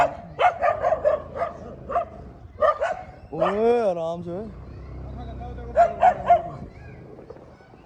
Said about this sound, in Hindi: कुत्ते तक भौंकने लग गए हैं